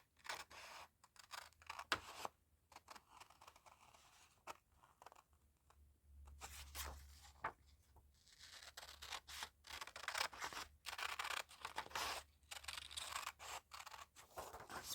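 Scissors snip and cut through paper to trim out part of a path for a small stencil or mask, in repeated crisp close-up bursts with short quiet pauses between them.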